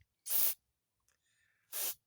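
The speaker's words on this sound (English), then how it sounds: "A lot of the times you put the straw in there and the force of the spray will clean it out." Carburetor cleaner is sprayed through the straw into a jet of a Honda small-engine carburetor on a snowblower, two short sharp hissing blasts with a faint quiet gap between them.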